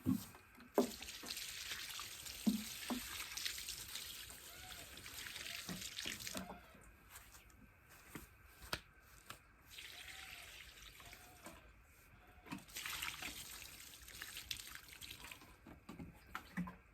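Water runs from a garden tap and spills over the container being filled, a hissing rush that comes in bursts with gaps between them. Small splashes and drips show up in the quieter moments.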